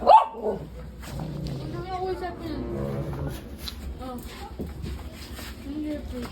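A dog barks and yips close by amid people talking at a small store, the barks short and intermittent over a busy background.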